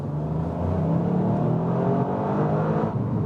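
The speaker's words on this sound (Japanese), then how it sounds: "さあ料金所からのフル加速です。" A four-wheel-drive car accelerating at full throttle away from a highway toll booth, its engine rising in a loud, continuous roar of climbing pitch with road and wind noise beneath, heard from inside, no voices.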